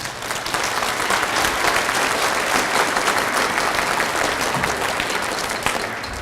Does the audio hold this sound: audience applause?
yes